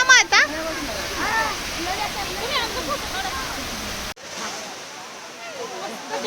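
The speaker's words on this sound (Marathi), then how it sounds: "कसला यार धबधबा बघायला" A waterfall roars steadily and loudly, a continuous broad rush of water, while people talk over it close by.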